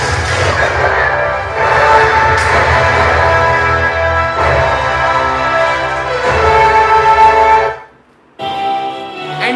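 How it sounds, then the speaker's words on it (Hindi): Loud, dense music with a full, bright sound plays through a boAt A1040 soundbar, cutting off abruptly near the end before starting again. "इस टाइम ना साउंड बार के अंदर प्ले हो रहा है म्यूजिक।"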